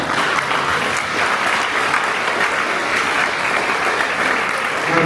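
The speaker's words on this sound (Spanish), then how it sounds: "pido un fuerte aplauso para el maestro Hugo" Loud, steady applause from an audience at a lawyers' conference at a university, welcoming a speaker: dense, even clapping filling the whole stretch without pause.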